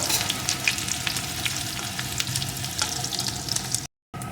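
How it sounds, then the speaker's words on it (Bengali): Chopped onion sizzles steadily in hot oil in a pan, cooked as part of a banana blossom (mocha) dish, with occasional stirring scrapes over a dense frying hiss; the sound cuts out briefly near the end. "একটা মিডিয়াম সাইজের পেঁয়াজের অর্ধেকটা কুচিয়ে পেঁয়াজটা একটু ভেজে নেব"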